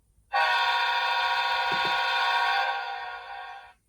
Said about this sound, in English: Function 2 is the horn,